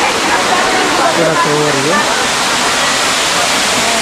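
The Medaram waterfall at Gandhari roars as a loud, constant broadband rush close by, while someone talks briefly over the steady crash of falling water.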